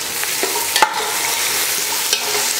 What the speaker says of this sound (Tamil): வெங்காயத்தை நல்லா பொன்னிறமாக வதக்கி எடுத்துட்டு அதுக்கப்புறம் மற்றதெல்லாம் சேர்த்துக்கலாம்